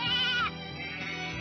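A sheep lets out one loud, wavering bleat at close range, followed by a lower, steadier bleat or background animal noise, with no talking.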